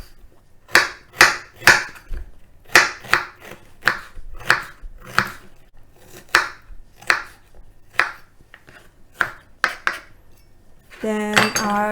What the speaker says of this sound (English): about 25 grams ginger, fresh ginger. I'm gonna cut finely.